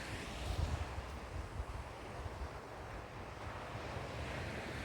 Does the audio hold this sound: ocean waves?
yes